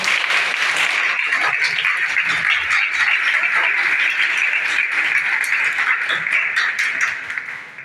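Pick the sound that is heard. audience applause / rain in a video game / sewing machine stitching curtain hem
audience applause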